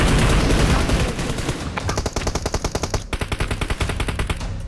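Automatic weapon fire in the mobile battle royale game PUBG Mobile, a loud opening blast followed by a rapid, evenly spaced burst of shots, clear and close, without talk.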